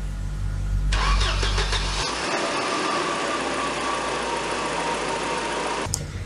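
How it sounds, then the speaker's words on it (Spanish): Car engine cranked by its starter motor for about a second before catching and settling into a steady, loud idle, with no voices. "Durante el arranque, el sistema eléctrico es utilizado al máximo, ya que deben funcionar el motor de arranque, las bujías y además la bomba de combustible"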